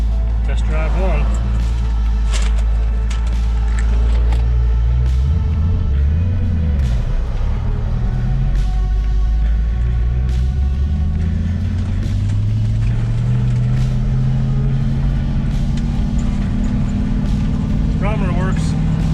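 A 1965 Ford Mustang with a 4-speed Toploader gearbox drives on a test run after a speedometer drive gear replacement. Its engine rumbles loud and continuous from inside the car, rising and falling through the gears, with brief talk over it.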